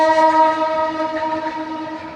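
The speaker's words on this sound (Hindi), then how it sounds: "ट्रेन की बहुत आवाज़ आ रही है।" A train at a station sounds a long, steady horn-like tone with rich harmonics, loud and close, slowly fading over a couple of seconds.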